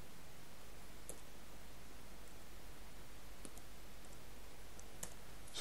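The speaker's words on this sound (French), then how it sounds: "Ce clavier de merde." Keys click on a computer keyboard: a handful of sparse, faint, separate taps over a constant low hiss, with no speech.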